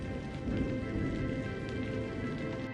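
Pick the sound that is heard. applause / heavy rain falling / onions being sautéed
heavy rain falling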